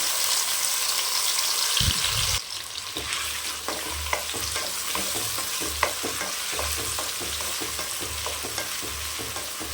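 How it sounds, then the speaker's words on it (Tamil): Cubes of elephant foot yam frying in hot oil in a pan, a steady close sizzle with scattered pops and crackles, stirred now and then, no voices. "இப்போ சேனக்கிழங்கு சேர்த்துக்கலாம்."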